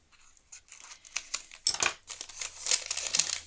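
A paper envelope from an Advent calendar is opened by hand, close up, with irregular crinkling, rustling and short tearing sounds that grow busier toward the end, and no talking.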